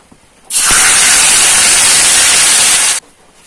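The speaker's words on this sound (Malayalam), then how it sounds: "ഇനി നമുക്ക് ഈ ഗ്രേവി മിക്സ് ഇതിലേക്ക് ഒഴിച്ചു കൊടുക്കാം" Gravy mix poured into a hot pan for Afghani mutton gravy, a loud sudden hiss and sizzle of steam that holds steady for a couple of seconds, then cuts off sharply.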